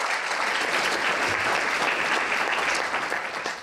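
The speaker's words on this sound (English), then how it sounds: "So could we give a quick round of applause to all the MIT partners?" An audience at a climate resilience event applauds the MIT partners, with dense, loud, continuous clapping throughout that tapers slightly at the end.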